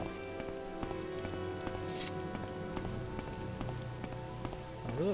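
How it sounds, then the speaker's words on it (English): Steady rain falls in the Morrowind video game outdoors on a foggy hillside near an ancestral tomb. It is a continuous soft patter under faint game ambience, with no voices. "It's raining now."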